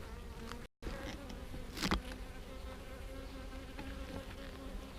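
Honeybees buzzing at the entrance of a beehive in an apiary after rain, a steady dense hum of many insects close by, with one louder bee passing near the middle.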